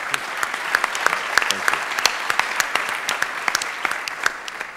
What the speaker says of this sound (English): He deserves to be applauded one more time.